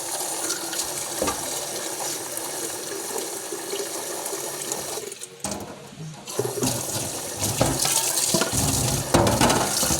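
Water runs from a tap into a container to be heated for coffee, a steady splashing flow that stops briefly midway, then resumes louder and fuller toward the end.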